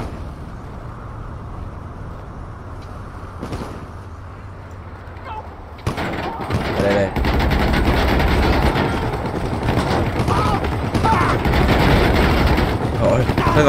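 Gunfire and explosions in the GTA 5 video game: a steady low rumble that suddenly jumps into loud, continuous dense firing and blasts, with game noise layered throughout.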